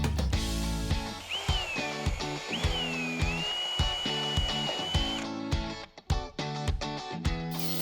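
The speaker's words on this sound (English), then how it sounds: "it's a good idea to drill your holes now." A power drill whirs in repeated bursts while drilling holes in a vinyl fence brace, spinning up and down through several short runs, close by, with a high whine rising over the rhythmic motor noise.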